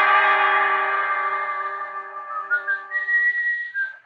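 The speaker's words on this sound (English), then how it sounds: "And then I heard the whistling." A long, wavering whistled tone, a little echoey, sliding through a few pitches before fading out.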